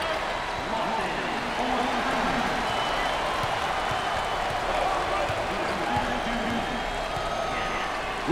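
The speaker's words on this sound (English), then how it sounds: "Listen to the crowd." Crowd noise at a college basketball arena, Army against Indiana, forms a dense, steady roar of cheering and clapping that fills the whole stretch at a distance, with a commentator talking over it.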